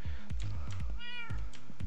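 A cat meows once in the Modern Skyblock 2 video game, a clear, close mew heard alone over a steady thumping, rhythmic background of game sounds.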